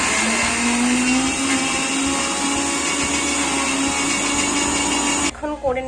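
Soaked dal grinds in an electric blender for making bori, a loud steady whirring motor with a rising pitch that runs continuously, then cuts off abruptly near the end as a voice begins.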